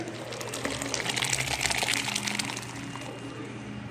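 Tecales corn is poured into a brewing mash, a soft rushing, pouring swish that builds and then tapers off over about four seconds, close and fairly quiet.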